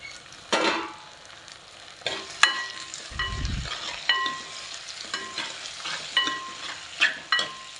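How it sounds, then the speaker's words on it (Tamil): Chopped tomatoes and onions with rock salt sauté in a pan for murrel fish curry. A steady sizzle runs under repeated sharp scrapes and knocks of a spoon stirring, close and fairly quiet. "இந்த தக்காளியும் வெங்காயமும் நல்லா வதங்கி குழஞ்சி வரணும்."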